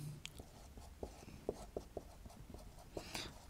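Pen writing out a maths answer, heard as soft, close scratching with irregular short strokes and taps and no voice over it.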